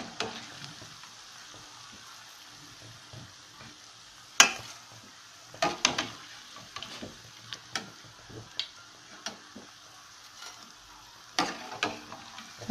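Lisan al-asfour pastry dough fries in hot oil with a soft steady sizzle, broken by scattered sharp clicks and taps of utensils against the pan, close and fairly quiet.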